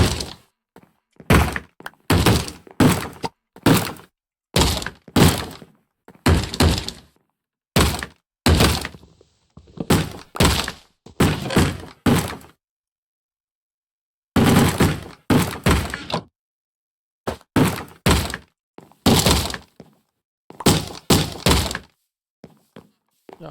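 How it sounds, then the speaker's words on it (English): Heavy wooden thunks hammer on a door in the Minecraft ATM 10 modpack, coming in quick irregular clusters of loud, close knocks separated by short silences, including one longer pause midway. "Keep banging on my motherfucking door."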